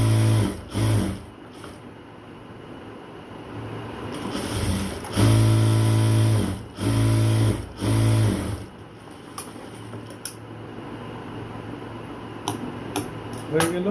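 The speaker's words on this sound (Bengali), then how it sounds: "এবার আরেকটা সেলাই দেব।" Sewing machine stitching the seam joining a dress sleeve: three bursts of steady motor whir and needle chatter, short at first, then two longer runs close together, with quiet pauses between.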